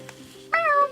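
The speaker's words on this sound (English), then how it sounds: "Meow." A single drawn-out meow rises close and clear after a quiet, faintly humming stretch, lasting about half a second.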